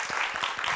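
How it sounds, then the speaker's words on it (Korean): A studio audience claps to welcome a guest onto a talk show, a short burst of dense mid-distance applause with no voices. "큰 박수로 맞이해 주세요."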